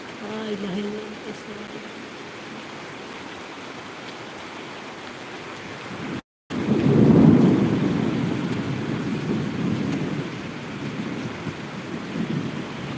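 A night thunderstorm with rain brings a steady hiss of falling rain, then a deep rumble of thunder swelling midway and slowly fading under the continuing downpour, with brief voices early on.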